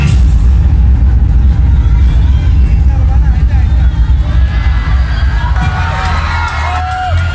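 A concert crowd screams and cheers loudly as the performer comes on stage, a dense, sustained roar of voices with whoops rising over a booming low rumble that continues throughout.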